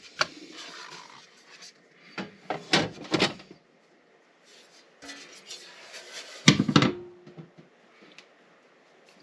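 A one-pound bread-maker loaf is knocked out of its metal pan onto a cooling rack, heard as several separate clattering metallic knocks and scrapes with quiet pauses between.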